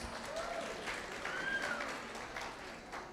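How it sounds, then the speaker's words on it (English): A faint, distant audience at a Children's Day celebration gives a steady round of applause, heard as a soft, even wash of clapping throughout, with a few brief tonal sounds in the background. "Please appreciate them with a big round of applause"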